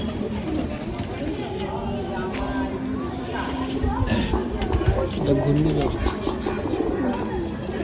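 A blue male Madrasi pigeon cooing in soft, repeated low throaty phrases close by, while a person talks over it throughout.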